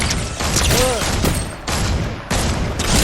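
Gunfire in the video game Fortnite comes in heavy, continuous volleys of noisy shots, broken by brief pauses, with game effects layered underneath.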